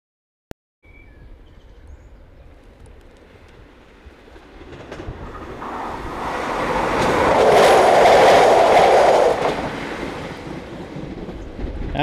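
A British Rail Class 197 passenger train on a North Wales line runs past on the track. Its rumble swells steadily from quiet to a loud, close peak, then slowly fades, with no talking.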